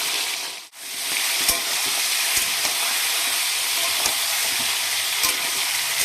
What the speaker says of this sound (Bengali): চিকেনগুলো আমি হালকা করে ভেজে নেব।